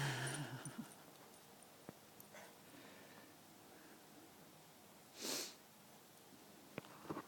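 A dog sniffs around a play yard in short, quiet nasal bursts, faint and close, with one louder snort-like puff partway through and a few small knocks in the background.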